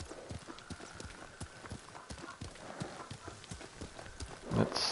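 Horse hooves clip-clop in a steady trotting rhythm while riding in the video game Ghost of Tsushima, with a brief neighing swell near the end.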